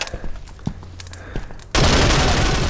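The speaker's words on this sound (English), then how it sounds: "This section of the trailer is a bandit's gunfight on the chemical plant." Bandits trade fire at a chemical plant in STALKER 2: scattered single gunshots crack at irregular intervals, then a sudden loud, sustained barrage of automatic fire and booms takes over.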